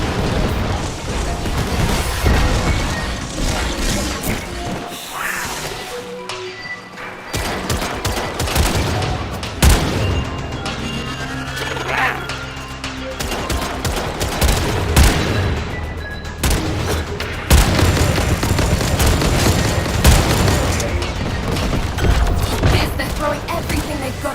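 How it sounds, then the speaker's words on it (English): Sustained loud gunfire and explosions from the Warframe video game, dense rapid automatic bursts layered with booms and mechanical clatter running continuously throughout, with voices speaking intermittently underneath. "Just keep shooting."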